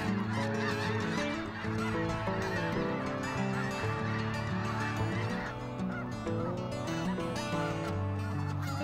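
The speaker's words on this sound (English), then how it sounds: "Snow geese spend their winters along with other migratory birds, such as sandhill cranes, in the southern U.S. and Mexico." A large flock of migrating snow geese honks continuously, a dense overlapping chorus of many birds calling at once, loud and steady throughout with no pauses.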